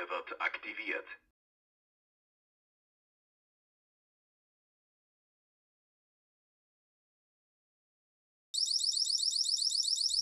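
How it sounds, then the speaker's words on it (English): A short burst of speech, a long silence, then a loud, rapid electronic alarm starts beeping in a fast, rhythmic warble. "let's activate the wireless alarm system and see if an alarm is triggered via the motion"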